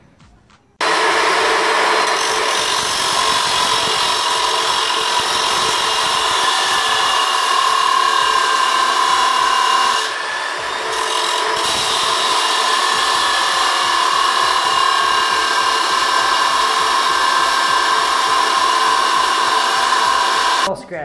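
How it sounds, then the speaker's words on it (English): A power tool cuts through metal mounts with a steady, loud, high-pitched grinding whine that runs continuously for about twenty seconds, with a brief dip in the middle. "I'm finally gonna get to work on cutting up these mounts"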